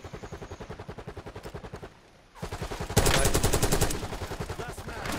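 Rapid automatic gunfire from Call of Duty Warzone on the Verdansk map, loud and close, sounding in steady rattling bursts that break off briefly and then resume with even heavier, denser shooting.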